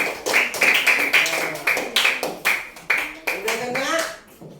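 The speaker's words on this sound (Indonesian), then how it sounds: "Saya tepuk tangannya" A teacher claps her hands in a classroom after a pupil finishes arranging verses of Surah Al-Maun, a quick run of sharp claps with voices talking over them nearby.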